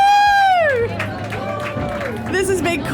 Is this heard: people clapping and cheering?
yes